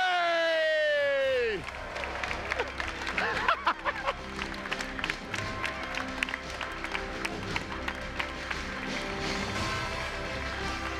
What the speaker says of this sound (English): Massive round of applause to all the participants